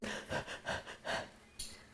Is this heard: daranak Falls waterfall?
no